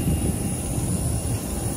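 A Firefly Boeing 737-800 sits on the apron at Langkawi airport during boarding by stairs. Its engines make a steady, loud, close roar with a thin, high whine running above it, and no one speaks.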